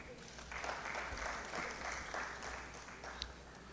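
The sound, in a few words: audience applause welcoming a speaker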